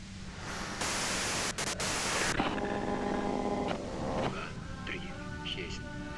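Loud hissing white noise in the video game Disco Elysium bursts on abruptly, then drops back under a voice talking, with a faint hiss lingering behind the speech.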